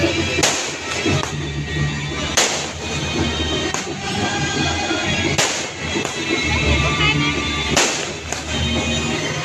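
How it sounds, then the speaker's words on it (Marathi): Firecrackers bursting at a village fair, a series of sharp loud bangs spaced a couple of seconds apart over a busy crowded background. "यानंतर आता इथे फटाके फोडायचे सुरू आहेत। हे बघा।"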